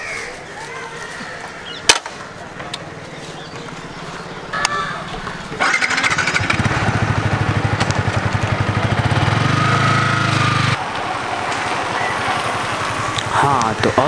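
A Yamaha R15 V3 sports motorcycle rides in, its engine rumbling low at first, then swelling into a loud, steady throbbing drone up close before easing back to a quieter running idle.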